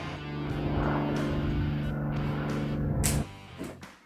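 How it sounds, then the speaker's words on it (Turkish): A sports car sound effect: a loud, steady engine drone holding one pitch for about three seconds, then cutting off abruptly into fainter fading noise. "Çok havalı bir spor araba."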